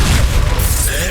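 In Hogwarts Legacy, an Expulso spell detonates with a brief, dense booming blast and crackling debris, heard close and loud under a voice.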